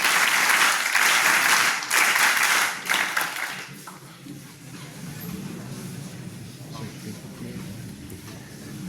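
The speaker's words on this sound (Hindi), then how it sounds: "करताल ध्वनि।" A crowd applauds loudly for a few seconds, then the clapping fades into quieter room murmur with scattered claps.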